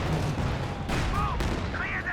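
Mortar fire in a WWII strategy game battle with tanks such as the SU-85, deep rumbling blasts layered over a dense, continuous din of combat sounds and brief whistling tones.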